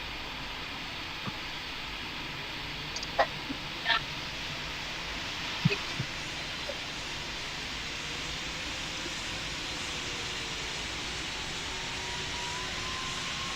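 Jet airliner taking off in the Roblox game Pilot Training Flight Simulator: a steady, moderately loud engine roar with a faint rising whine, broken by a few soft clicks and blips, with no speech.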